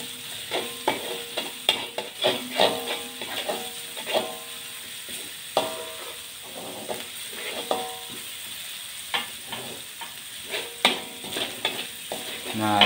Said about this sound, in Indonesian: Nah, ini numisnya ini kita tungguin sampai mateng ya.